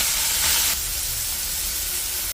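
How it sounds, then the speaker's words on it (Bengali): Kachki fish frying in hot oil, a steady close hiss and sizzle that swells briefly near the start and then settles into an even crackle. "এখন তেল দিয়ে দিছে, কাসকি মাছটা ভেজে নিব।"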